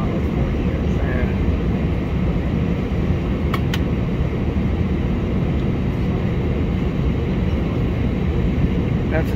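An airplane taxies toward the runway before takeoff, a steady broadband engine rumble heard from inside the cabin, with people talking over it.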